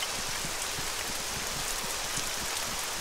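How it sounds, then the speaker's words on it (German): Steady, loud rain in Arma 3 hisses evenly across the whole stretch, a dense wash of droplets with faint low thumps underneath and no voices. "der Regen ist extrem laut"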